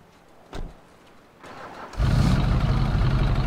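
In the video game GTA, after a couple of soft thumps, a Vapid Chino custom car's engine cranks and catches, then settles into a steady, rumbling idle.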